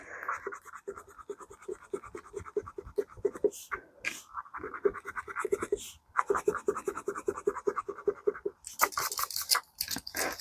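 Close, scratchy strokes of an erasable pen writing on paper while filling in a monthly cash budget, coming in rhythmic bursts of short scribbles with brief pauses and a louder rubbing stretch near the end.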